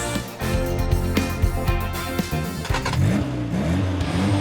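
A car engine from a luxury car collection revs up and down with rising and falling tones over a loud, continuous mechanical rumble.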